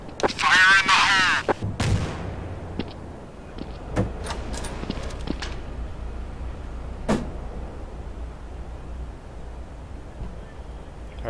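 Grenade blast and gunfire in the game Counter-Strike: Source: a loud burst of shots, then a heavy explosion, followed by scattered sharp pops and echoing shots over a low rumble, with players talking.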